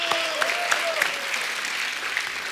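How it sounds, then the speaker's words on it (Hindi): A studio audience at a comedy show bursts into steady, enthusiastic clapping that carries on evenly, with no talking over it. "उनके लिए जोरदार तालियां एक बार।"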